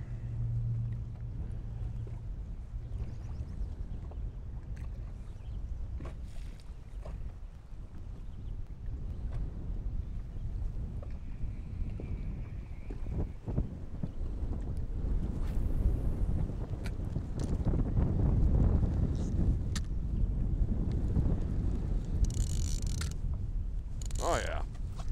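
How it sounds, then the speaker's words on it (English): Wind gusts across Cedar Lake around a fishing boat. It buffets the microphone as a low, rough rumble that swells and fades over some twenty-five seconds, with faint voices now and then. "When the wind's really picking up."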